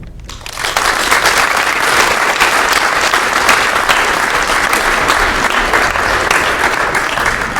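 An audience at a school Memorial Day assembly breaks into loud, dense applause that starts abruptly and holds steady, close and full, for several seconds.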